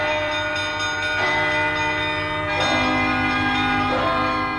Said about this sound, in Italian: Andiamo a suonare la campana.